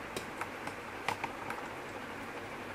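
A handful of light, quiet computer keyboard keystrokes tap out a short command in an irregular rhythm, then a firmer press lands near the middle.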